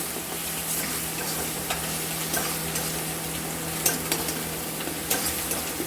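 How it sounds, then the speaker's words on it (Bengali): Spiced masala with a little water sizzles in a pan while being stirred for an egg and pea ghugni, a continuous close frying hiss with occasional scraping ticks of the spoon. "জল দিয়ে এটাকে কষব"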